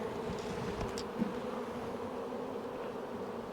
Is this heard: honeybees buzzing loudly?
yes